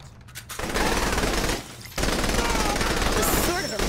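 Sustained automatic gunfire in the video game Saints Row The Third Remastered, loud and dense, with a brief pause before the bursts resume.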